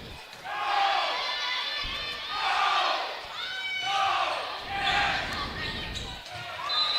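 A high school volleyball serve in a school gym during a match between Jackson County Central and Spirit Lake: dull ball strikes ring out under loud, shouting crowd noise and cheering that swells and fades.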